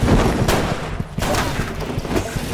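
Movie shootout from The Good, the Bad, the Weird, with dense bursts of gunfire and booming impacts crowding together in a chaotic, loud rush, brief and layered with other action noise.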